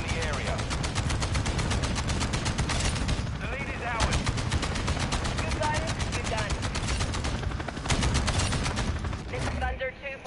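Rapid video game gunfire, bursts of automatic shots rattling close and loud in long strings with brief gaps, while a voice talks over the shooting.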